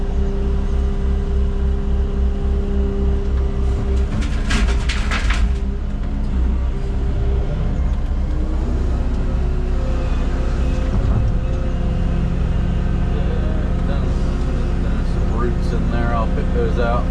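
A skid steer's engine drones steadily nearby, with a low rumble and faint mechanical clatter running throughout, partly under a person talking.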